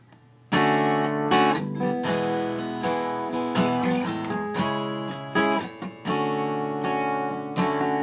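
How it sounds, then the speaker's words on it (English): Acoustic guitar strums a simple three-chord pattern for a song, full, ringing chords played close and alone with brief pauses between strums. "It sounds great on an acoustic guitar"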